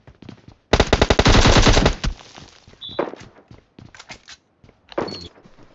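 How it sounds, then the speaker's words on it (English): Gunfire in a mobile battle royale game: a loud, rapid automatic burst lasting over a second, followed by scattered single shots and footstep-like thuds amid short silences. "he is shooting me"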